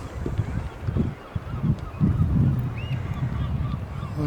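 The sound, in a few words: birds calling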